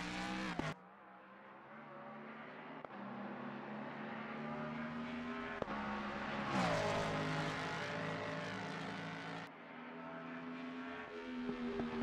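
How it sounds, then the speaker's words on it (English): Mustang GT3 race car from Assetto Corsa Competizione, its engine droning loudly and continuously from outside, with sharp clicks and pops punctuating the note and one brief cut near the start. "It's got the crackling and the popping and all that."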